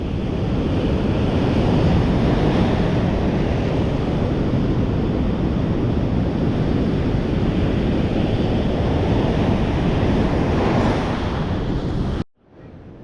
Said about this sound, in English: So you got some of these waves.